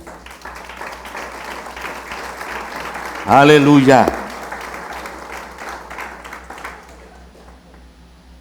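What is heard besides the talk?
applause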